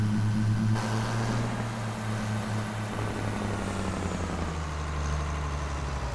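Loud truck engine in the Farming Simulator 25 game, a steady heavy drone with deep humming tones that shift slightly in pitch partway through, continuous and close, no voices.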